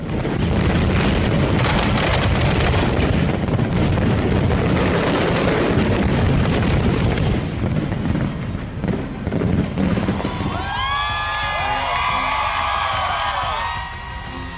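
Fireworks shells fire from mortars in a dense, continuous barrage of loud booms and crackles, then give way to fainter overlapping whistling, screeching streaks in the air.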